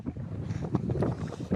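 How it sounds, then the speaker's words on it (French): Strong wind blows across a mountain trail on a trek over the Lysefjord in Norway, a close, continuous gusting rush buffeting the microphone with no talking. "le vent quand même, il est un peu fort aussi"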